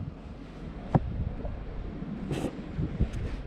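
Wind gusting across an outdoor gold panning site at the Lytton panning reserve, a steady low rumble of buffeting against the microphone with a few sharper gusts, alone without talk.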